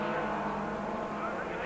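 A Castrol Toyota Hilux race truck with a 2.4-litre four-cylinder engine drives during a 1997 Super Series race, its engine a steady, loud drone that masks any spoken commentary.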